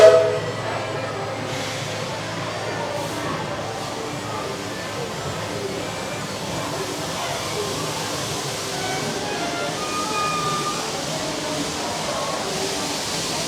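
Disney World Magic Kingdom railroad train running steadily on its track, a continuous rolling rumble with broad clatter and noise, moderately loud and unchanging, with a faint voice heard beneath it.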